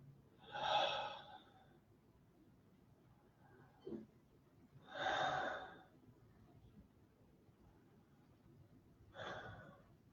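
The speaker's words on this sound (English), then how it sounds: "we're going to start by taking 3 deep and heavy breaths" Three deep, heavy human breaths at slow, even intervals, each a long airy inhale-exhale swell separated by quiet pauses, close and alone without speech.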